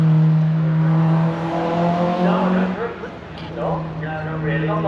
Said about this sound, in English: First up the hill is going to be this Jaguar E-Type, who has now taken his roof off.